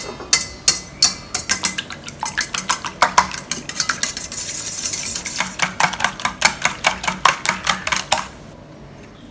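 Seven eggs being beaten with salt in a bowl, a fast steady run of close clinking whisk or utensil strikes against the bowl, alone and without talking.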